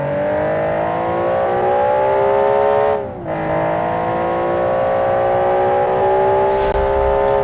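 A Kendall K1 race car drives a showcase race, its engine holding a steady high whine that dips briefly as it lifts off, then climbs back to a sustained loud drone, with no talk.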